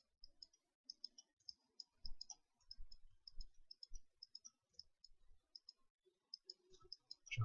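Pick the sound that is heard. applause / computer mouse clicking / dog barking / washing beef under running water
computer mouse clicking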